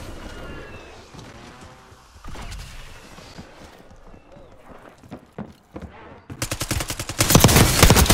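Rapid SMG gunfire in Rainbow Six Siege, with bursts scattered through the clip under talk and a loud, sustained close-range burst at the end.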